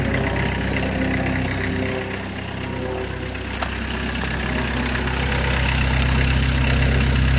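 An old diesel van engine idling close by after a cold start, a steady low clattering rumble that swells slightly toward the end.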